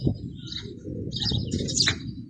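Racing pigeons at a pigeon club in Xıdırlı return and land, with soft coos, chirps and flutters over a steady low outdoor rumble throughout.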